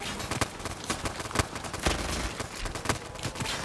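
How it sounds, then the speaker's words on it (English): Dense, continuous gunfire from an enemy boss in a zombies video game, loud bursts of rapid shots layered over a busy game soundscape for the whole stretch. "it's shooting way more this time"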